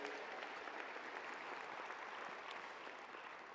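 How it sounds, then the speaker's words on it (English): An audience at a Sun Devil Athletics stole ceremony claps for alumni, a steady, dense wash of many hands applauding at a distance and fairly faint, continuing without pause. "Y'all clap it up for them."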